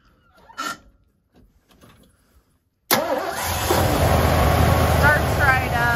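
A 1983 Ford F250 bull-nose 4x4 pickup with a 350 V8 cranks briefly after a short quiet stretch and some handling noise, then catches and settles into a loud, steady idle up close.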